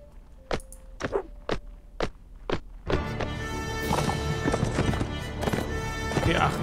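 Horse hooves in the medieval combat game Mount & Blade: Warband clop in a slow, evenly spaced walk, several distinct strikes, then battle noise takes over and a voice talks over it.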